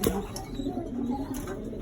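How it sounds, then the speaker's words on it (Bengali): Racing pigeons coo softly in a loft, a steady low murmur of several birds close by with no talk. "সবাই দোয়া করবেন আমাদের কবুতরগুলোর জন্য, যাতে কবুতরগুলো সুস্থ থাকে।"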